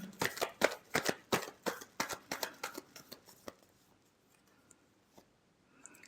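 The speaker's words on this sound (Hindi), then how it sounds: "Last shuffle." Tarot cards are shuffled nearby in a quick rhythmic run of crisp riffling slaps for about three seconds, then the sound trails off into near silence with a few soft taps.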